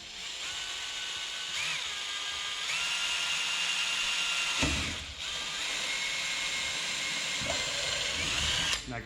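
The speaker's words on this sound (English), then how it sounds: "I'm gonna drill the holes on the top so I don't drill any holes through my hands" Power drill boring holes for a smashed fiberglass repair, a loud, close, continuous high whine that shifts pitch as the bit works, with short dips and restarts.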